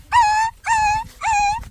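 Three short, high whimpers in the manner of a puppy, evenly spaced and close, apparently a human voice imitating the puppy's cry.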